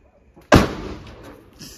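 A Diwali firecracker bursts with a single sharp, loud bang that trails into a rumbling echo over roughly a second, with faint background noise before and after.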